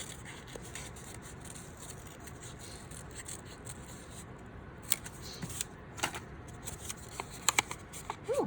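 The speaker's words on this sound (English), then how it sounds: "Notice how I'm moving my paper around and not my scissors so much." Soft crisp snips and rustling of paper being cut, a few sharper clicks near the end, quiet and close with no talking.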